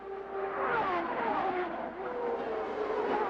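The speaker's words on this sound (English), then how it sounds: "Scott Pruitt knows that the only place he's going to be able to get by Adrián Fernández is at the end of this straightaway, right down under braking into turn 3." Champ Car race cars at a late-1990s race slowing hard at the end of a straightaway into turn 3, engines droning loudly with falling pitch as they downshift, close and continuous.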